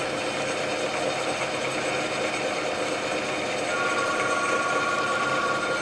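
A used 12 x 36 inch Clausing engine lathe, model 5914, runs in threading mode with a steady mechanical hum and rapid clattering gear rhythm; a thin whine joins partway through.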